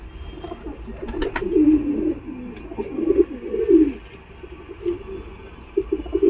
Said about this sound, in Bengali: এটা সুদ্দি ছাপকা পায়রা